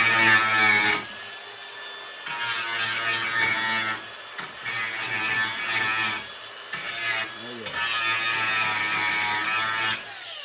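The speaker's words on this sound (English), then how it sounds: "let's see if we can get these couple pieces ground up here" A grinder works on small rusty metal parts, giving long, harsh, steady grinding passes broken by short pauses, close and loud.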